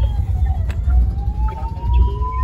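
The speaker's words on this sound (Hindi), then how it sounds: "एम्बुलेंस की आवाज आ रही है आपको" An ambulance siren wails in a jammed Delhi road, a clear rising tone cutting over the loud low rumble of idling engines and traffic close by.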